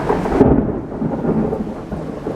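Thunder rumbling through a backyard rainstorm, a loud low boom that rolls on continuously beneath steady rain, with the high hiss dropping away early on.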